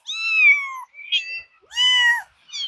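A kitten on a farm meows three times in long, rising-and-falling calls separated by short pauses, close and clear with no talking.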